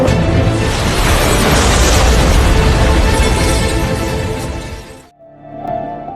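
A car explodes in a film scene: a loud, sustained roaring blast of debris and fire that fills several seconds, then cuts off abruptly to quiet with a faint rumble after.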